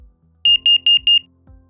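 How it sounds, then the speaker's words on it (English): A BRK interconnected smoke and carbon monoxide alarm sounds its CO horn pattern: four loud, shrill, evenly spaced beeps in quick succession, close and clear, with faint low thumps around them. "all interconnected CO and Smart Interconnect smoke alarms sound the CO horn pattern"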